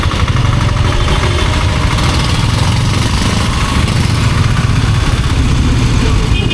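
A motorcycle engine idles in a city traffic jam, a loud steady rumbling putter with constant vibration running throughout, surrounded by street noise.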